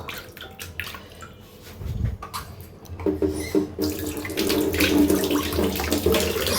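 Tap water runs and splashes while a clay grinding bowl used for mashing is rinsed and scrubbed clean, the flow growing louder and fuller toward the end, with no speech.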